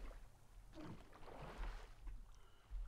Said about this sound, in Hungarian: Csak nem valami gyors ez a csónak.